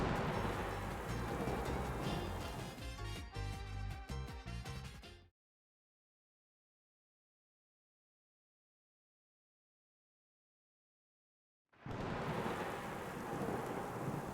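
A thunderstorm with heavy rain and booming thunder, a dense roaring wash of sound that cuts out to silence for several seconds before resuming at full strength.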